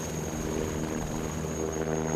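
Several US and German attack helicopters taking off together, a dense, steady rotor and turbine roar with a constant high whine, loud and continuous throughout.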